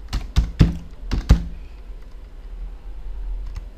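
Several quick keystrokes clatter on a computer keyboard while entering data into an Excel spreadsheet: a close, sharp burst of taps over the first second and a half, then near quiet.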